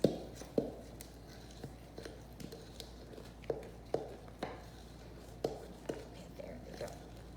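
Four cups of flour and four tablespoons of vegetable oil get a rough stir for homemade playdough, giving soft, irregular scrapes and taps close up, with no talking.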